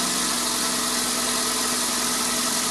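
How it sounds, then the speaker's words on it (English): Ford Laser / Mazda 323 engine running at a steady idle, a continuous even mechanical hum with no pauses, close and moderately loud, heard alone. "Alright, so I'm going to start the car up now."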